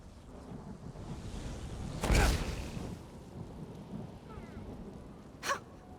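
A thunderstorm in the video game Elder Scrolls Online: steady rain hiss runs throughout, broken by two sharp, loud thunder cracks, one near the middle and another, shorter one near the end.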